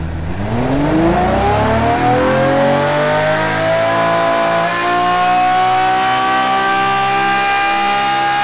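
Unmuffled naturally aspirated 5.0 liter engine from a 1956-era build in the Automation car game, revving loud and close, its pitch climbing steadily then holding a high, harsh drone throughout.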